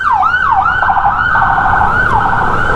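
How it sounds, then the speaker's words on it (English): A loud, close ambulance siren wails in repeated rising and falling sweeps in Davao City, Philippines, with no voices. "Here comes the ambulance."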